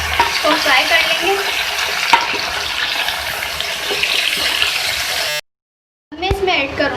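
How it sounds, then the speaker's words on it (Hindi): Beef gosht fries in a pot with a loud, dense, continuous sizzle and crackle, which cuts off to silence for a moment before loudly resuming. "अब इसके साथ मैं इसमें ऐड करूंगी गोश्त। इसको फ्राई कर लेंगे।"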